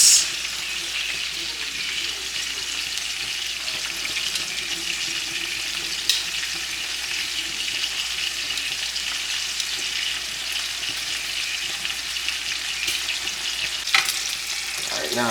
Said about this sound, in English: Let that cook for like 2 minutes. Let it sizzle.